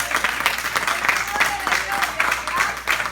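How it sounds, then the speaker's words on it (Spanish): Church congregation applauding during a Sunday service, a steady mass of clapping sustained throughout with a voice carrying on over it. "Denle un aplauso a Cristo en esta mañana."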